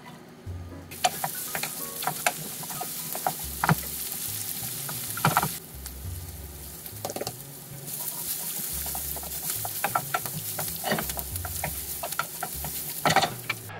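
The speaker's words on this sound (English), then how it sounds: "saute the onions on the stovetop" Onions and garlic sauté on a stovetop for koshari sauce, a continuous close sizzle broken by repeated scraping and stirring strokes across the pan, with no talking.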